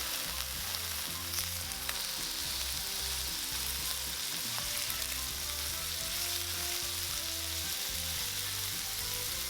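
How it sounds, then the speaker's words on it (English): Pork chops pan frying in olive oil, a steady close sizzle and crackle running throughout with a low tonal hum beneath, no voices. "We're gonna pan fry until the surface is golden brown"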